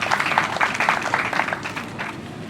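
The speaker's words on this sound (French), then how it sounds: "Je voudrais vous demander d'applaudir." Applause from an audience at a FESPACO ceremony after a speech, a continuous patter of many hands clapping at moderate distance, fairly even throughout.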